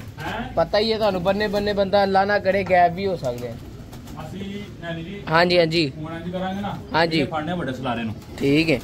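Pigeons coo softly in the background while several people talk continuously over them at close range.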